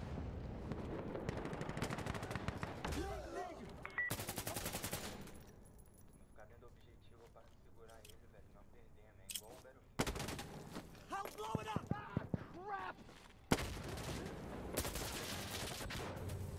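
Gunfire in the tactical shooter Insurgency: Sandstorm: sharp bursts of automatic fire and single cracks arrive in clusters, separated by quieter stretches of distant battle ambience.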